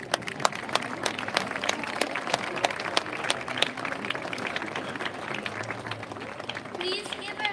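Families at a fifth grade promotion ceremony receive a round of applause, with scattered crisp claps and crowd murmur heard across a large room and voices talking underneath.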